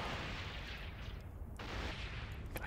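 Mjolnir Rage rockets firing in the EVE Online space game, heard as a steady, dense roar of rapid launches and booms that stays loud and continuous with no speech over it.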